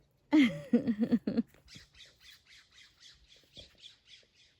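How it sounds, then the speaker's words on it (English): Birds squawk loudly in a garden, a harsh burst of several close calls followed by a faster, fainter run of short repeated chirps. "The birdies agree with that."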